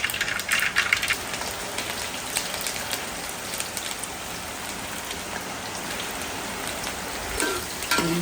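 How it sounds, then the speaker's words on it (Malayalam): Heavy rain pours steadily outdoors during home cooking of a rooster curry, a dense continuous hiss of drops on surfaces with a few louder spatters near the start and end. "ഇവിടെ ഭയങ്കര മഴയാണ്"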